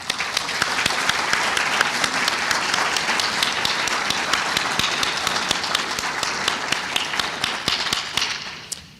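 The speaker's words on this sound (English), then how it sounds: "I would like to have you acknowledge the work of these committees with a round of applause" Sustained applause from an awards ceremony audience, dense and even clapping that holds steady for several seconds before fading out at the end.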